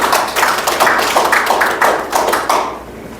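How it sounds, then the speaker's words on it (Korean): Small audience at a feng shui lecture gives a short burst of applause, loud and close, with a few uneven clapping pulses that fade quickly. "박수를 한번 주시면 고맙겠습니다."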